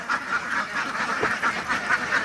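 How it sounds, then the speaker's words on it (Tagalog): Domestic ducks in a farm pen quack repeatedly and fairly loudly, several overlapping calls in an irregular, steady chatter with no talking. "So yan po yung ating mga alagang itik."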